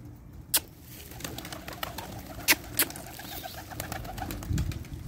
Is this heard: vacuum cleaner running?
no